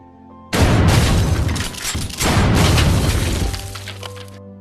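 Movie shootout gunfire erupts loudly in two dense bursts of crashing shots and shattering impacts, with a brief lull between them and a fading tail.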